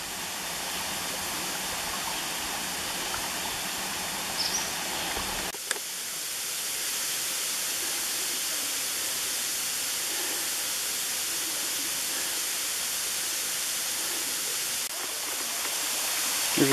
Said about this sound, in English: The water flows over there real nice.